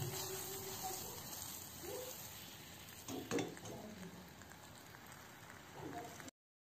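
Butter melting into caramelized sugar in a frying pan makes a soft, bubbling sizzle with a brief louder burst midway, running steadily before cutting off abruptly.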